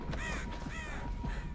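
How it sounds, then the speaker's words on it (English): A crow in the video game Dead by Daylight caws several times in harsh, repeated calls, fairly close and clear over a noisy background. "Crow, shut up."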